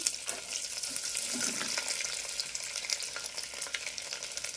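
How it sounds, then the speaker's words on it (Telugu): Garlic and onions drop into hot oil with curry leaves in a pan for drumstick dal, giving a steady, close, even sizzle and crackle throughout, with no voices. "ఇప్పుడు మనం కరిగి పెట్టుకున్న తెల్లగడ్డలు ఎర్రగడ్డలు వేసేద్దాము."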